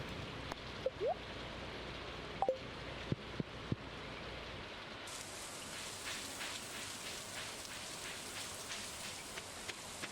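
Steady rain falling in the video game Stardew Valley, a soft continuous patter that thickens into heavier, brighter rainfall partway through, with a few faint clicks early on and no talking.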